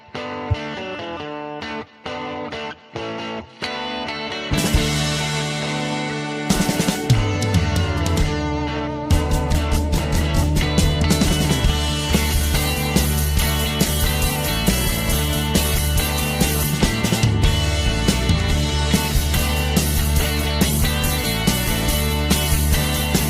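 A rock track played on radio. It opens with sparse, choppy guitar hits, then the full distorted band kicks in and drives steadily at high volume.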